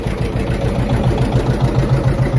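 A generator engine runs at a farm shop, giving a steady, loud, continuous mechanical drone with a low hum and no voices.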